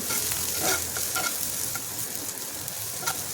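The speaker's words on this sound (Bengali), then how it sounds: "তারপর হালকা নাড়বো একটু পেঁয়াজটা ভাজা ভাজা হয়ে এসছে" Chopped onion sizzles in a pan with garlic and slit green chillies, with a spatula scraping and stirring in short repeated strokes over a steady frying hiss.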